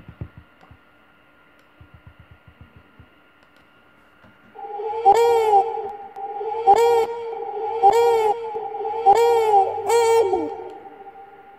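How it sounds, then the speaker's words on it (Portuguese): A producer's voice tag is processed with added reverb, a repeated processed vocal phrase with sustained tones rising in five evenly spaced bursts after a few faint clicks at the start. "Vou acrescentar mais reverb."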